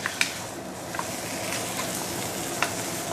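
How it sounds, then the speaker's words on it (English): Constant sizzling from a hot pot of spicy sour mustard green stew with roast pork, with a few clinks of a utensil as the stew is stirred. "But let's give it a few more stir, yeah?"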